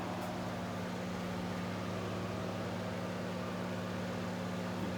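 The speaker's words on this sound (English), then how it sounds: "That's my Sears welder with the optional external cooling fan." A Sears welder with an optional external cooling fan hums steadily, a constant low electrical drone with airy fan noise, unchanging throughout with no talk.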